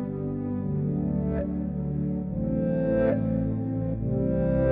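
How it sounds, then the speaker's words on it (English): A synth pad in REV holds one continuous half note, thick and distorted with echoing texture, sounding alone and steady with faint swells partway through. "here's a pad playing a half note"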